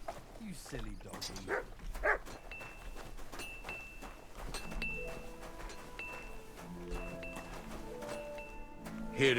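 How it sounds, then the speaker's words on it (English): A dog barks and yips in a castle setting in the medieval game Kingdom Come: Deliverance II, with several short close barks and whimpers early on, mixed under talking and later musical tones. "You silly doggy."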